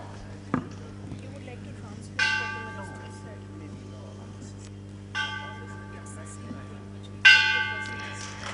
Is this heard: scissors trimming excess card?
no